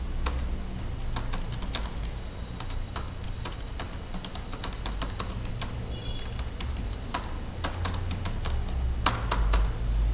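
Fingers type steadily on a computer keyboard during data entry in Tally ERP 9, keys clicking close and continuously for the whole stretch over a low background hum.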